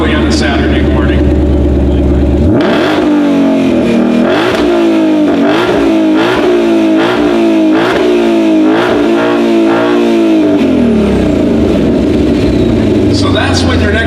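A 2020 Shelby GT500 engine starts with a sharp bark, then revs loudly in a series of rising and falling pulls, close and dominant, before settling back to a rumbling idle.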